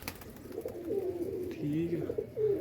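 Pigeons coo in a loft, a low rolling warble repeating through the moment, with someone talking over the birds close by.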